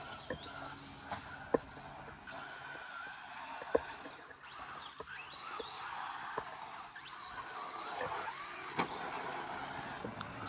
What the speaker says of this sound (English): This car is screaming